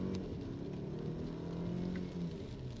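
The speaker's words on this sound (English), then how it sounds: "So I'll floor it here, and it's in Sport Plus with the manual mode." A 2022 BMW X3 xDrive 30i in Sport Plus with manual shifting pulls hard at full throttle on an open road, its engine a steady, dense low drone heard from inside the cabin with no talking.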